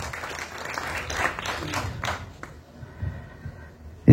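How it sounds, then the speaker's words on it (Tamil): Audience at a Tamil film audio launch claps in a scattered, thin round of applause that builds briefly, fades, then ends with a sharp close thump. "ஒரு தடவையாவது கைத்தட்டலாம்"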